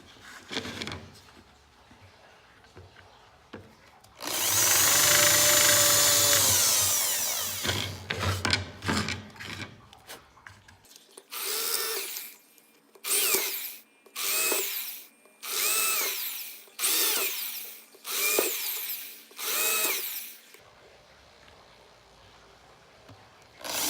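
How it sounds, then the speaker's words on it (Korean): A power drill bores a series of holes in a piece of wood for a handmade wooden ring: one long whining run, then about eight short, loud bursts in a regular rhythm, with quiet gaps between them. "구멍을 이렇게 쭉쭉쭉쭉쭉쭉쭉 여러 개를 뚫을 겁니다"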